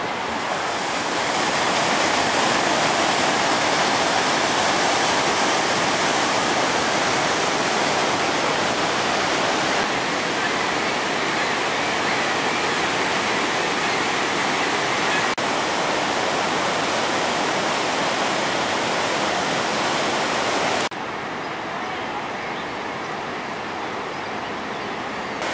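Niagara Falls in Ontario sends up a constant, dense roar of falling water, loud and unbroken throughout, with a slight drop in level near the end and no voices.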